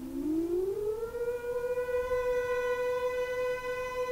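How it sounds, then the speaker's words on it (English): A British civil defence siren winds up and then holds one long, steady, loud note, droning without a break. "the siren will sound on a steady note like this"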